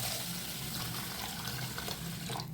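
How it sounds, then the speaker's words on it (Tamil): Clean water pours onto washed ragi (finger millet), a continuous splashing stream for a couple of seconds, fairly soft and close. "இப்போ நல்ல தண்ணி ஊற்றிடலாம்."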